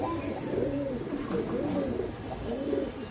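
A Gulzar male pigeon coos close up in repeated soft, throaty rolling phrases over a steady background hum.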